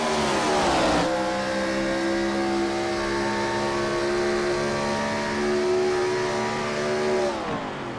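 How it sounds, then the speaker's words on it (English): Onboard IROC race car at Atlanta, its engine holding a loud, steady high-pitched drone at near-constant revs for several seconds, then easing off at the end; no talk. "Let's go on board with the 33 of Kevin McCann"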